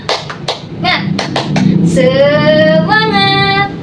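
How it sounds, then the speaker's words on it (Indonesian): A class of schoolchildren performs a 'tepuk semangat' clapping cheer, a few sharp rhythmic claps up front followed by children's voices chanting together in a sustained, close group shout. "Ada yang bisa tepuk semangat?"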